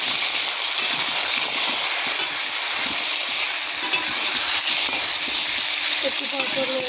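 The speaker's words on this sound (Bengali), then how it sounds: "বন্ধুরা, আলু আমি আবার নেড়ে দিলাম" Potatoes frying in a pot for mutton biriyani, a loud continuous sizzle and hiss with repeated scraping and clacking of a spoon as they are stirred, some light clatter near the end.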